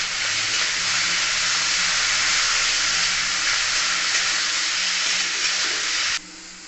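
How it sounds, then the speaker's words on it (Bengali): Sliced potatoes with salt and turmeric frying in a pan, a loud, dense, steady sizzle and hiss that holds for about six seconds before dropping abruptly in level. "আলুটাকে ভেজে নেব।"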